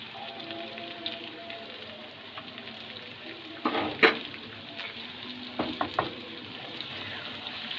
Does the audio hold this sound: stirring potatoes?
yes